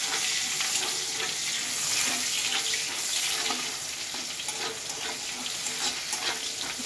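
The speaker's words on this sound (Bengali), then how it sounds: "আর একটা পেঁয়াজ কুচি, এবারে ভাজবো একসাথে" Chopped onion frying in hot oil with whole spices in a pan, where fish was just fried, giving a steady, close crackling sizzle with scraping and stirring throughout, no voices.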